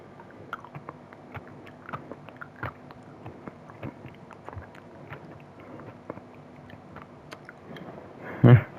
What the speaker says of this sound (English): I just had a mini crunchy thing that Mom just gave me